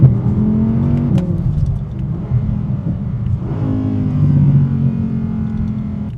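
A powerful supercar engine revs hard, a deep throaty roar that rises and falls through two long pulls, loud and close with no talking.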